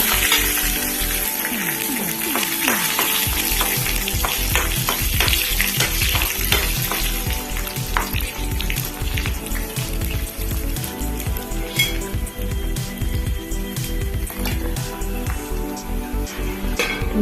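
Loud close sizzling of frying in ghee in a pan, with a continuous crackle, occasional stirring scrapes and utensil clinks against the pan throughout.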